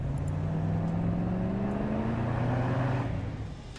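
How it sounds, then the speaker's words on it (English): A grey jeep crossing sand dunes, its engine roaring loudly and steadily with a rising pitch as it accelerates, then fading slightly at the end, with no voices. "The roar of an engine precedes the sight of a grey jeep cresting a sand dune."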